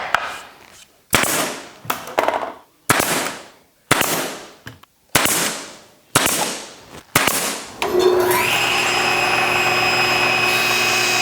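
A pin nailer fires pins into a miter sled, seven sharp, loud pops spaced about a second apart, each with a brief decaying rattle, followed by a steady whining machine hum.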